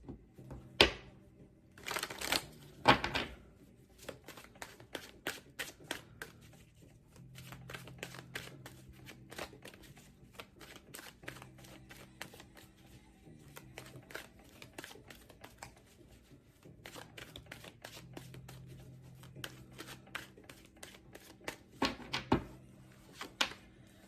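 Tarot cards being shuffled in repeated riffling bursts, crisp and close, with pauses and soft handling sounds between rounds during a reading.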